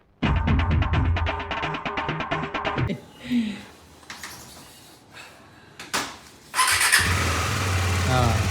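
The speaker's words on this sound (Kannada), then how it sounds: "ಹಾಂ, ಸ್ಟಾರ್ಟ್ ಆಯಿತು ಅಣ್ಣಂದು ಹೊಸ ಗಾಡಿ" A new KTM 390 Adventure motorcycle engine turns over and catches, a rapid cranking rattle followed by a burst of idling engine noise, close by, with people talking around it.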